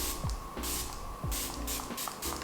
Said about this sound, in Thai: เป็น setting spray จาก Prime Me ค่ะ